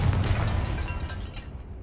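Confringo fire spell explosion in the wizarding game Hogwarts Legacy: a single loud, close blast with a deep rumbling body that quickly fades away, with no talk over it.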